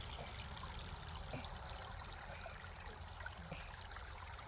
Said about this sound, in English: we're just playing this little river stream that's right next to our camp